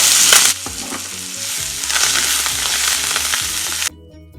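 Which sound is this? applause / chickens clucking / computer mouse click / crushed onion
crushed onion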